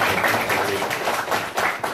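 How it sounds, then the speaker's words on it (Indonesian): Audience applause at a school legal outreach talk on drug dangers, a dense steady patter of many hands clapping together for about two seconds, moderately loud and continuous with no speech over it. "Tepuk tangan sekali lagi untuk pertanyaan."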